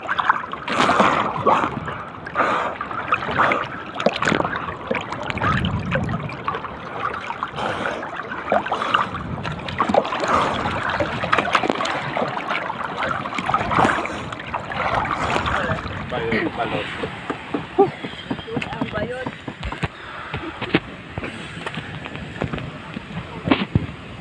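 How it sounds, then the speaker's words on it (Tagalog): Strong waves slap and batter a small fishing boat in rough, cold sea, giving irregular loud splashes and thumps over steady wind and engine noise, with occasional voices. "Nalalakas ang alon."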